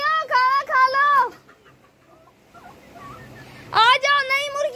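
Chickens on a poultry farm being called to eat, with loud bursts of clucking and squawking at the start and end and quieter scratching between, while a person's voice calls to them.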